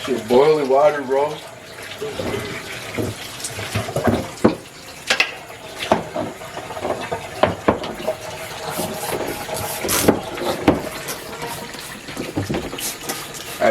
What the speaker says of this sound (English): Just gonna run the water through it.